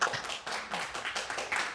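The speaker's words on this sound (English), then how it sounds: "Let's give a big round of applause." An audience at a business talk gives a faint, brief round of applause, a soft patter of many hands clapping together.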